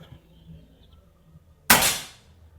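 A single sharp PCP air rifle shot cracks out after a quiet stretch, a loud close pop with a short fading tail.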